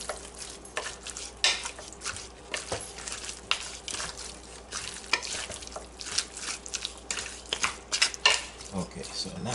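Fresh turmeric being stirred into chicken curry in a pot, with steady scraping and clinking of a utensil against the pan and a soft sizzle underneath, close and continuous with no talking.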